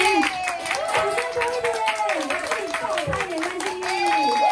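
Audience applause rings out in a Taipei hotel function room during a health company's presentation as a guest is welcomed, with scattered clapping carried under a host's voice and tonal music.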